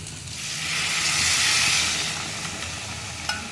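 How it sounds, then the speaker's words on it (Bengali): Basmati rice frying in a pan, a broad steady sizzle that swells and then eases off, with a small clink near the end. "এবার একটু ভেজে নেব, চালটা দিয়ে কষিয়ে নেব ভালো করে।"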